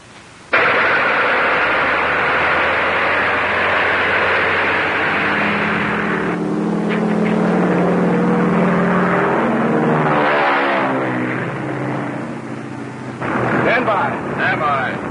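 An old airplane engine in a 1935 film cranking to life with a sudden loud roar, then running steadily with a droning, throbbing rumble that rises and shifts in pitch, very loud and close.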